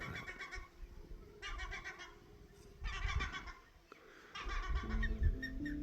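Four bursts of shrill, harsh calling from a seagull at Ootsa Lake, British Columbia, spaced a second or so apart, over outdoor rumble and faint movement noise.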